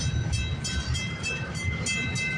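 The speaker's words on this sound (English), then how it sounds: "This is a big train." CN freight train rolling slowly past a railway crossing at Pefferlaw Road, a steady loud rumble of wagons and wheels with faint high ringing tones above it, continuous throughout with no speech.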